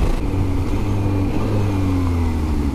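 Kawasaki Z H2 SE supercharged naked motorcycle riding at speed, engine note shifting through gears with quick shifter and auto-blipper, steady close drone with rising and falling tones and a raspy exhaust edge.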